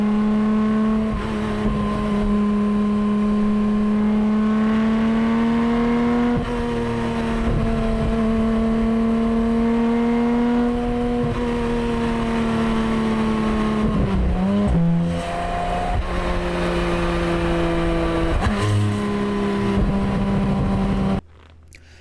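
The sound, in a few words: Porsche 718 Cayman GT4 RS engine revving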